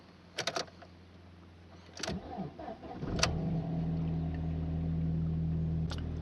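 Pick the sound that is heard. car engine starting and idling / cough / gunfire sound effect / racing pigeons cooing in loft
car engine starting and idling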